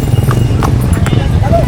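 Racehorses thunder past in a horse race at Lucban, a loud rapid drumming of hooves under excited commentary and crowd voices.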